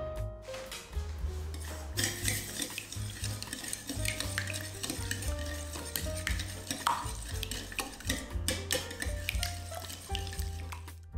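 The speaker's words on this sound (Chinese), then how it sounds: "然后就先把这份材料搅拌均匀，搅拌到白糖融化就行了" A whisk or spoon stirs cooking oil, white sugar and two small eggs in a mixing bowl. The scraping strokes are close and continuous, with occasional clinks against the bowl.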